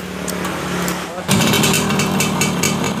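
A motorcycle electric starter cranks the engine: a quieter buzzing hum first, then an abrupt jump into loud, rough, rapid mechanical chattering that continues to the end.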